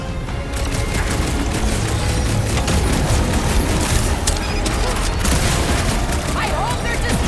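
Dense rapid gunfire and booms fill a Marvel's Guardians of the Galaxy battle, continuous loud bursts with shouting voices mixed in throughout.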